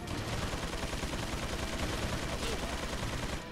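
Pistol fire from the video game Resident Evil 4, a dense run of sharp shots packed close together under a constant loud wash of game sound, holding steady for the whole stretch before easing off at the very end.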